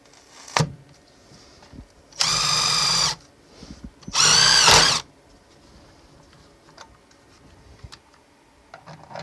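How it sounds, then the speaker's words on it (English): An electric power drill bores holes for mounting a tankless water heater inside a van, with two loud, close bursts of about a second each, separated by quieter clicks and handling noise. "I've drilled new holes"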